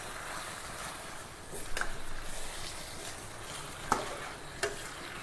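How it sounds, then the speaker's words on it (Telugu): Chicken pieces are stirred through hot oil in a pan, giving a steady sizzle with a few scraping stir strokes rising over it. No one speaks. "వేసిన చికెన్ని మొత్తం మిక్స్ చేసుకోవాలి"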